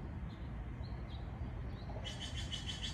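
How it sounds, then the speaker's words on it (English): A bird calls near a crepe myrtle tree outdoors, a series of bright repeated chirps in the last second over steady outdoor background noise, with a couple of faint earlier calls. "that's a cool bird making a noise"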